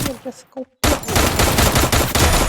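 Sustained loud automatic gunfire in the Free Fire battle royale game, a dense continuous burst of rapid shots with a few quieter game sounds just before.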